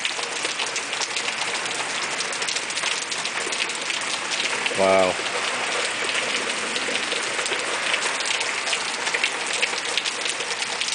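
Heavy rain pours down in a dense, continuous hiss, with water gushing as from an overflowing gutter. A person briefly exclaims midway through.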